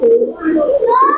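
A racing pigeon coos up close, with a few short throaty warbles in quick succession, loud and clear.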